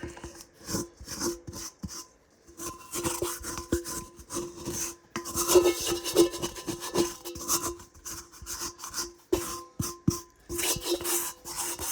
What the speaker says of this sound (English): this is where my bowl scraper comes in very handy to just get all the rest of the flour off of here